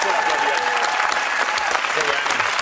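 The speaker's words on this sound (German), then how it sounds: "Nochmal einen Applaus natürlich." A studio audience on a live German music quiz show breaks into dense, loud applause that holds steady throughout, with a little talk and cheering woven underneath.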